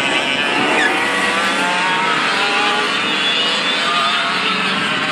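Go-karts spin out together on a track, filling the air with a continuous loud, harsh roar of small engines and tire scrub that holds steady throughout, without voices.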